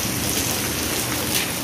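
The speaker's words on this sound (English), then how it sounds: "It's raining again." Steady rain falls outdoors as a dense, loud, continuous hiss of drops with no gaps and no talking.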